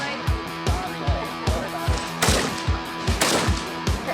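Gunshots crack out at an outdoor shooting range during a ladies' range day, a regular series of sharp reports about every half second with a couple of louder blasts, heard over background music.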